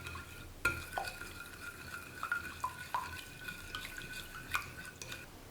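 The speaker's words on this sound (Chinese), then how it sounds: "把所有材料充分的搅拌均匀。" Warm milk, yeast, salt and sugar stirred together in a bowl, a series of light clinks and scrapes from the utensil at an irregular rhythm, close and fairly quiet.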